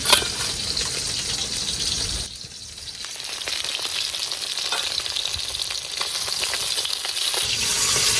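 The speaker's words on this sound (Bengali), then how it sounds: "এই যে চিচিঙে ভাজা পোস্ত দিয়ে," Snake gourd frying with poppy seeds sizzles steadily in a pan, up close, with a brief dip and then a renewed crackling hiss as it is stirred.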